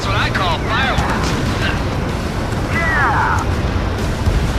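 Ships exploding at sea in the Ace Combat 7 video game, heavy rumbling blasts and roaring fire under a constant low boom, with higher whistling and screeching effects sweeping through.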